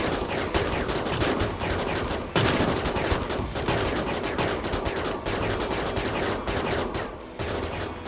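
Rapid sniper rifle fire from Mass Effect soldiers in RimWorld with the RiftWorld mod, a dense, continuous stream of sharp cracking shots overlapping loudly from start to end.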